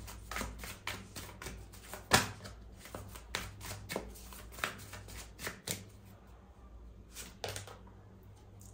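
Cards are shuffled and drawn for a card reading, a rapid series of crisp riffling flutters and slaps close by, busy at first and then thinning out, with no talking.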